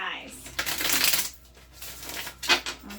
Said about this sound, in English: I'm going to shuffle about